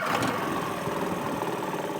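Outboard motor on a small aluminium tinny boat running steadily, a continuous mid-pitched buzzing drone with a fine rattle, fairly faint and unbroken.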